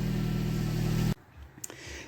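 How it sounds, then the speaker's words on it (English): A Dodge Caliber's engine hums steadily and loudly through a revamped exhaust system, then cuts off abruptly about halfway, leaving a quiet background with a few faint clicks. "I can't get over our revamped exhaust system. It's so nice."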